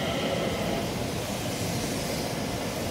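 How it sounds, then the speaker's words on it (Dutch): Train rumbling steadily through Rotterdam Centraal station, a continuous broad roar with no pauses, loud and close, with no voices over it. "Alweer een extra trein, jongen."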